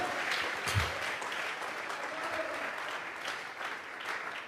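Steady clapping from a church congregation during a worship service, sustained and fairly even throughout with no voices standing out.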